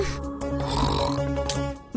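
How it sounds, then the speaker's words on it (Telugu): A woman snoring in a drama scene gives one long, rasping snore that fills the moment, with no talking over it. "నీ గురక ఆపవే."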